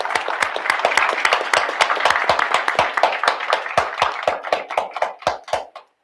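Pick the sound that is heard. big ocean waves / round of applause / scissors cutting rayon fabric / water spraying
round of applause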